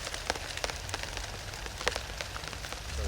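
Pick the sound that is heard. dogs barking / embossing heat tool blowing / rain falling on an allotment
rain falling on an allotment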